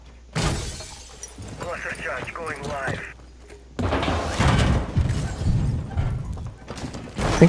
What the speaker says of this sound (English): I think that you broke a window over here